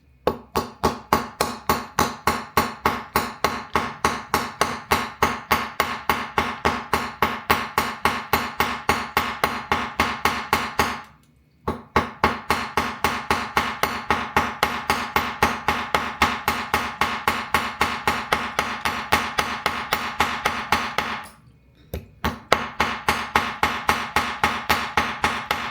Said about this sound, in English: So we got our hammering block. We have our loose 14 gauge twisted wire. We have our jewelry hammer.